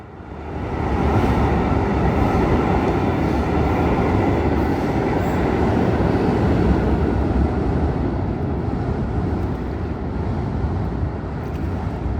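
A Brightline passenger train roars steadily past nearby, heading southbound, a loud, continuous rumble with rattling wheels that holds throughout and eases slightly toward the end.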